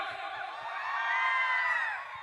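A live concert crowd at the Tring bisi kwtal 2024 festival in Khowai, Lankapura, screaming and cheering in one sustained roar that swells toward the middle, loud and close, right after a performer calls for noise.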